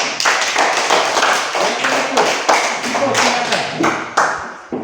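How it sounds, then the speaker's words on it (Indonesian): An elementary classroom claps hands in a group round of distinct, fairly quick claps with audible individual slaps, and some voices are heard faintly beneath. "Ya, tepuk tangan."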